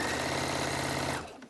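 A domestic sewing machine stitches a peg bag in a quick, even mechanical whirr of rapid needle strokes, close and steady, then stops abruptly after about a second.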